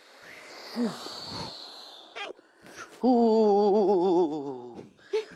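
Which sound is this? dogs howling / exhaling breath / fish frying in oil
exhaling breath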